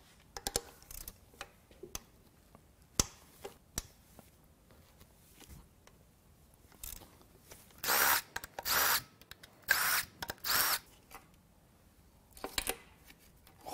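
Power tool cracking loose bearing fasteners on a Jaguar 3.0 supercharged engine: scattered ticks and clicks, then several short, loud buzzing bursts of impact driving, close by.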